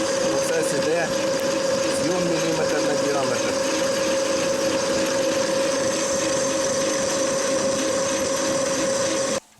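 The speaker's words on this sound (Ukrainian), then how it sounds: "Проточка, щоб 10 мм шляпки відділити, а тут протачуємо по наружі." A metal lathe turning a bolt blank for a homemade small tractor, separating a 10 mm head and cutting along the outside: a steady machine hum with a constant tone and scraping cutting noise, continuous until stopping abruptly at the end.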